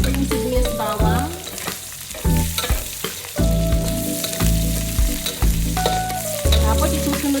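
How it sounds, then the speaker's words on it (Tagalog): Ginger, onion and garlic frying in a pan for adobo rice, crackling and sizzling with bursts of stirring under loud background music. "Bali, itutoast lang natin pa yung luya para mas lumabas yung bango niya."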